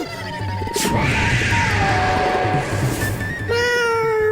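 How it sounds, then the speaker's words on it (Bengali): A cat meows loudly and close by in one drawn-out, wavering call, with a brief clatter near the start. "আরে এটা তো বিড়াল।"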